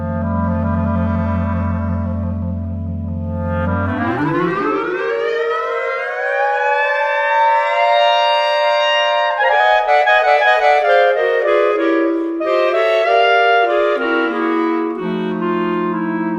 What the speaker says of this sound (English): Let's have a listen to a clarinet quartet.